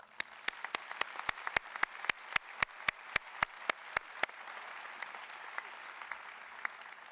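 A crowd applauds at a university commencement ceremony, with regular sharp claps punching through a steady wash of clapping that continues after the rhythmic beats fade.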